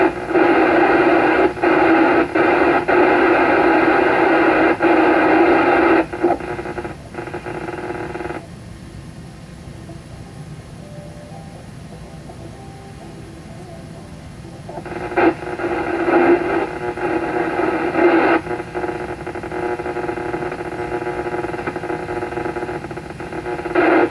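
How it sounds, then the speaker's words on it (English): An FM radio scans the band and sits on a station carrying only a steady carrier, heard as loud continuous static hiss and hum that dips quieter midway and then rises again, with no voices. "Sounds like there's a carrier on that station. Definitely a carrier there of some type"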